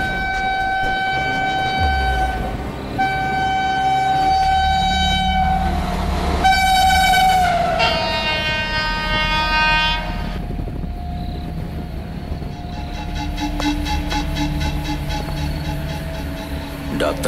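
Steady rumble from inside a moving train, with a loud sustained train horn sounding twice over the rolling noise and a few scattered background voices.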